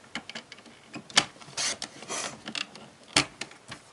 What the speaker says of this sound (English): I'm just going to cut it in half to get my two 1-inch sections.